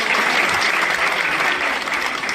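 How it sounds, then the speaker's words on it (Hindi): An audience at an education fair in Ladakh applauds to welcome guests, a dense, continuous burst of clapping from many hands, loud and close throughout. "एक बार पुनः तालियों से हमारे अतिथियों का स्वागत।"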